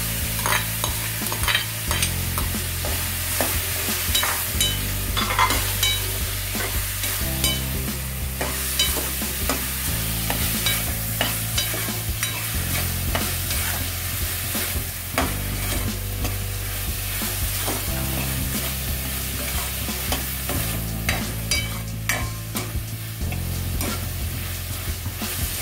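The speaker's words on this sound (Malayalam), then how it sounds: "ഇതിലേക്ക് പൊടിയായി അരിഞ്ഞ് വെച്ചിട്ടുള്ള ബേബി കോണൂടെ" Finely chopped baby corn and chopped tomatoes are stirred and fried in a pan for a masala curry, giving repeated scraping stirs over a steady sizzle and a low background hum.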